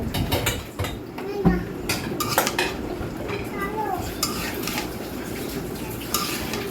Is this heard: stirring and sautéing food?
yes